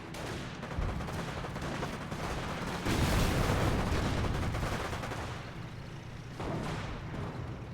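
Battle gunfire from the Company of Heroes video game, with Panzer Elite facing US forces: dense, continuous rattling bursts of shots and crackling fire, fairly faint overall, swelling louder around the middle before easing back.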